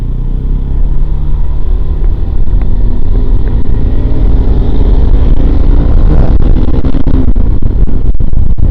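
Loud, continuous engine drone and wind rush from a motorbike being ridden, heard close up from the rider's position, with sharp knocks and rattles toward the end.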